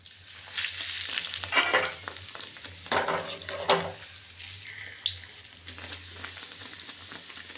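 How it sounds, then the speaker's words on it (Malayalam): Chirimutta, a Kerala snack of bread-crumb-coated filled pieces, sizzles and crackles as it fries in hot oil, with bursts of bubbling and stirring over steady background frying. "ഫില്ല് ചെയ്തിട്ട് നമുക്ക് വറുത്തെടുക്കാം."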